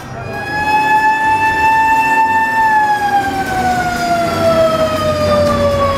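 A fire engine siren wails loud and close as the truck arrives at a burning warehouse in Jember, its tone holding steady and then sliding down as the vehicle passes, with traffic noise underneath.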